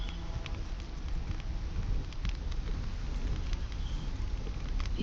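Steady rain falls in the video game Solarpunk, a continuous close patter with scattered louder drops and a low rumble beneath, no voices.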